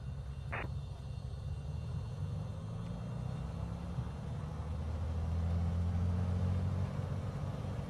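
A Beechcraft's engine drones at a steady low rumble while taxiing to general aviation parking in a flight simulator, building slightly louder toward the end, with a brief click early on.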